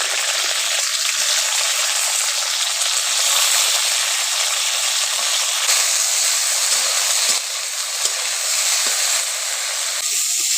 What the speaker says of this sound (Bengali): বরবটিগুলোকে ভালো করে ভেজে নেব।